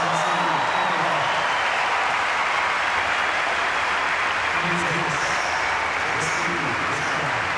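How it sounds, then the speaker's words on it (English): Tennis crowd at the Pacific Life Open applauding Roger Federer's comeback win as champion, a broad, continuous wash of clapping that holds steady throughout, with a commentator's voice faintly present. "prolonged applause for a quite magnificent comeback by the world number one"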